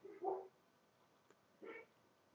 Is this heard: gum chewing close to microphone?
no